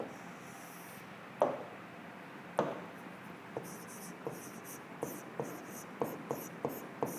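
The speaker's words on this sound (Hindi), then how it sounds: "उर्वरता लिखता रहा हूं।" Chalk tapping and scraping across a classroom board in short, separated strokes, fairly close, with a steady room hiss beneath and no talking.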